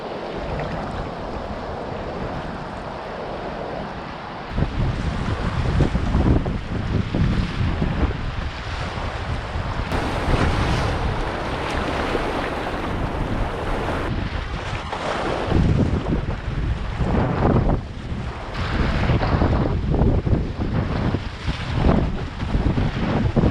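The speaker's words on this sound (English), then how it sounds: "Crazy volume in these rapids, wow." River rapids rush and churn at high volume in a wild northern wilderness, a dense, continuous roar of turbulent water, with wind buffeting the microphone and no voices.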